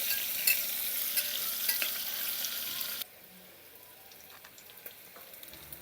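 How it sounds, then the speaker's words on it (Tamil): Onions sauté in a hot pan for prawn biryani, turning golden brown, with a steady bright sizzle and stirring that drops abruptly to a quieter hiss halfway through. "அதனால் கொஞ்சம் கோல்டன் ப்ரௌன் வர வரைக்கும் நம்ம நல்லா வதக்கலாம்."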